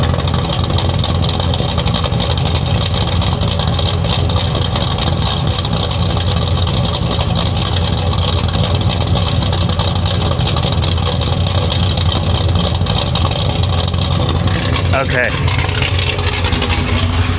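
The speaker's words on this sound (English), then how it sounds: "You should feel the amount of pressure coming out of that exhaust." A 1966 Chevy Impala engine rumbles loudly and continuously through its exhaust, a deep, pressured drone with slight revving, and a person talks briefly near the end.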